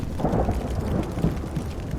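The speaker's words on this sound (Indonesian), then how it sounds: "Bunyi guntur mulai terdengar di kejauhan" Low, continuous rumble of distant thunder rolling under a dark sky, steady and unbroken with no voices, like a storm building far off.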